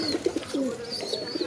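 Pigeons in a keeper's flock of about seventy birds coo softly and repeatedly at close range, their low throaty calls overlapping in an uneven rhythm with no talk.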